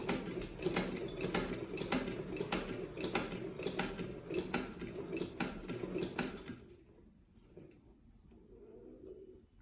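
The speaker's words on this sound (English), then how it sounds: "let me just spin the hand wheel and give you guys an idea how this machine works" A 1916 Singer 29-4 sewing machine is worked by its hand wheel, producing a rhythmic series of close mechanical clicks and thumps that stop partway through, followed by a low, quiet hum.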